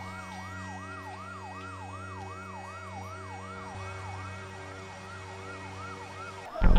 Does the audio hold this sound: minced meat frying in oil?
no